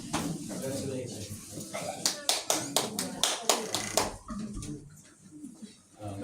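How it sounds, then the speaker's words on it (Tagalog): Small group clapping by hand at a family gathering, a short burst of distinct, fairly close claps between stretches of talk. "Palakpak naman kayo dyan."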